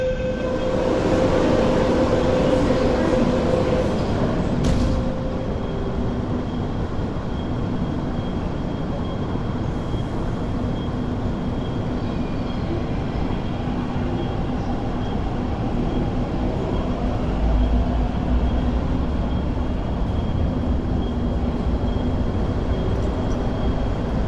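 An MTR train at Tiu Keng Leng Station in Hong Kong gives a steady, unbroken rumble that fills the platform for over twenty seconds, with no voices heard.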